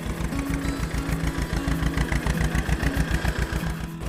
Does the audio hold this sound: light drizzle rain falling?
no